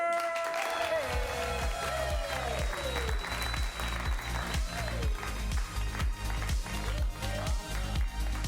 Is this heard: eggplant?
no